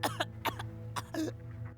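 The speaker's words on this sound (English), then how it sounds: "I cough." A person coughs in a few harsh, wet bursts, close and fairly loud, with a steady low tone droning underneath.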